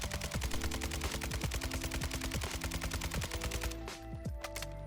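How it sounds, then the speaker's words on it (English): Rapid automatic gunfire in Warzone 2 as a weapon empties a full magazine into a wall, loud, evenly spaced shots pounding without pause before the burst ends and a few final clicks and thuds follow. "we're going to go ahead and unleash this at the wall and see how well we can do"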